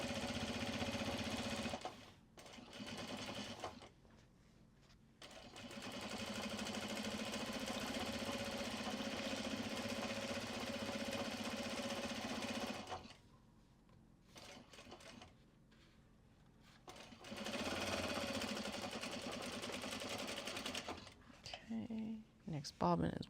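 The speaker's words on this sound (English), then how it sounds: "Next bobbin is winding." A home sewing machine winds a teal bobbin with a steady, close whir. The whir runs in long stretches and breaks off for short pauses, with light clicks near the end and a voice speaking over part of it.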